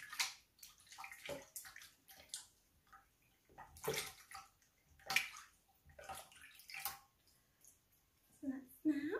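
Water splashing and trickling in short bursts as hands and forearms are rinsed during a self-care routine, with brief pauses between pours and a soft gurgle near the end.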